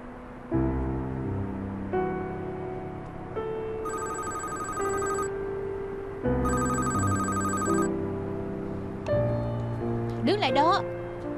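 A telephone rings in a Hong Kong TVB family drama scene, two bursts of bright electronic trilling rising over a steady background bed, with a voice talking in between.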